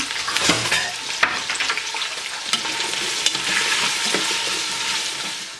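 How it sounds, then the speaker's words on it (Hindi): Ginger, bell pepper and onion tossed in a pan over high flame, loud continuous sizzle with repeated metallic scraping and clattering tosses, close up and without talk. "अदरक जाता है इसमें, बेल पेपर और प्याज, फ्लेम हाई पर रखें और उसको आपने यहाँ पे टॉस करना है।"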